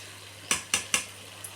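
A spoon stirs rice into village-style tomato gravy in a metal pan, three quick scraping clatters in a row with a faint fourth, close up and alone.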